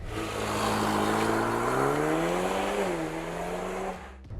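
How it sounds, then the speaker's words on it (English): A 2021 Mercedes-AMG GLA 35 engine drones and revs steadily in a sporty tone in Sport Plus mode, pitch rising then easing off before cutting out, heard from inside the car. "now I'm in Sport Plus. So you can hear it starts barking."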